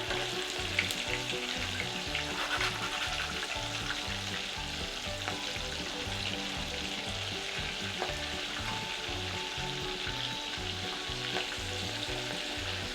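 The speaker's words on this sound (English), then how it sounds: "while those are frying" Steady, crackling sizzle of burger patties frying in hot grease, continuous and close, with no voices.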